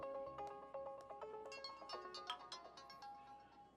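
A phone rings with a melodic electronic ringtone, a repeating pattern of bright tones playing alone at moderate volume.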